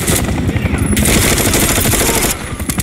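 Rapid automatic gunfire in Call of Duty Modern Warfare 3 rattles out in a dense, loud, close burst that eases slightly near the end.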